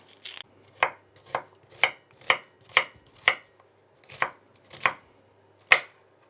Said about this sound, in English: finally chop the onion.